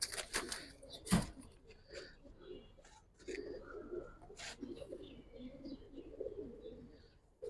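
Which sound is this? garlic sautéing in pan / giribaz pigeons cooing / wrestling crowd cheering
giribaz pigeons cooing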